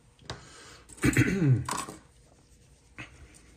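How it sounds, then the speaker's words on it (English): Someone clears their throat once, a short rough rasp close by, followed by quiet and a faint small noise. "And clear my throat again."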